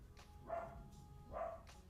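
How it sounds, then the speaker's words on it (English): A pet dog named Nala barks faintly indoors, two short muffled barks about a second apart, somewhat distant within a quiet room. "must have heard something, she's barking"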